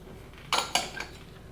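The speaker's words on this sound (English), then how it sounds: "So we're just gonna stir this in here." Cinnamon and spices being stirred into batter, with two or three sharp clinks of a utensil against a bowl in quick succession, close and clear in a quiet kitchen with no talking.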